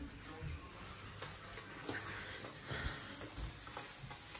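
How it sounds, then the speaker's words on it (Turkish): Cheese frying in a pan during a village breakfast, a steady soft sizzle running throughout with faint clinks and stirring noises, quiet and fairly close. "Peynir mi kızartmış Selda?"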